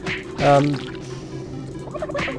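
A cartoonish turkey gobbles in the video game Super Turbo Turkey Puncher 3, a loud, close warbling call that trails off, followed by a fainter second gobble.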